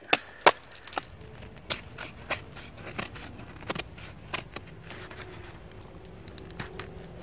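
A knife shaving curls from a fatwood knot outdoors, a series of sharp woody clicks and scrapes spaced irregularly, close and fairly quiet, with no talking.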